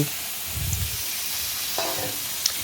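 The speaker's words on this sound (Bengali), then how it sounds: "কড়ার মধ্যে আলু আর বেগুনটাকে ভেজে নিচ্ছে ভালো করে লবণ হলুদ দিয়ে কষে নেবে" Potatoes and eggplant fry in a wok with salt and turmeric, giving a steady, even sizzle with occasional soft scrapes and clinks of stirring.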